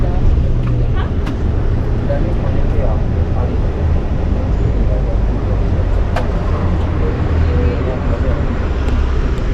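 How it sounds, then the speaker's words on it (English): A Transmilenio bus rumbles along with a loud, steady low engine and road drone, a few sharp clicks and rattles popping up over the continuous ride noise. "Now I'm on the bus, Transmilenio."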